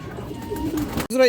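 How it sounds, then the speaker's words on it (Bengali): Indian Benarasi Kaldom high flyer pigeons coo softly and close by, in one short, low murmur that ends abruptly just as a voice begins talking. "ইন্ডিয়ান হাই ফ্লায়ার বেনারসি কালদম কবুতর আছে"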